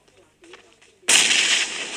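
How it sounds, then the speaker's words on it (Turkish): A bomb goes off in a shooter game mode with pump shotguns, a sudden loud blast that holds as a sustained roar after a second of quiet, with faint voices before it. "bomba yanlarında patladı"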